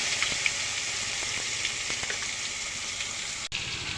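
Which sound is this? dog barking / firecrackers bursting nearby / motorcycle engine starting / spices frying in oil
spices frying in oil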